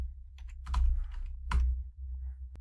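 Fingers tap out a formula on a computer keyboard, a few sparse keystrokes with two louder clusters, close and quiet against a low background hum.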